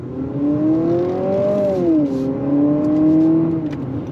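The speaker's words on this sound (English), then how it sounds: "we're gonna go on throttle again" A 2025 Honda CR-V Sport Touring hybrid accelerates on throttle, its steady engine drone rising and dipping in pitch under a constant whir, loud and close throughout with no talking.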